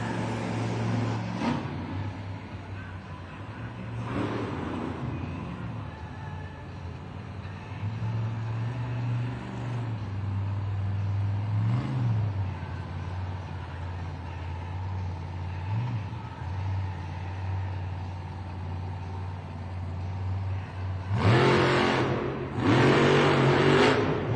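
Raminator monster truck engine idling and revving in an indoor arena at a Monster Jam event during a two-wheel skills challenge, with a sustained loud rumble, swelling surges and a sharp burst of revs near the end.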